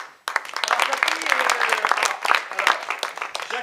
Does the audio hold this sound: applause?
yes